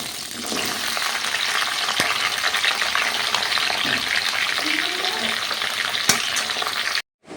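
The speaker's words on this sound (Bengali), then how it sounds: "তো দেখো এখানে আমি সবজিগুলোকে ভাজার জন্য দিয়ে দিয়েছি" Vegetables fry in a pan with black cumin, a loud, dense sizzle close by that stays steady with stirring scrapes before cutting off abruptly.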